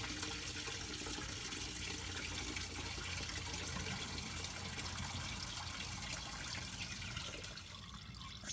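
Coolant pours steadily out of a Porsche Boxster 986 during a coolant change, a constant close gushing wash of liquid that barely varies, easing slightly near the end.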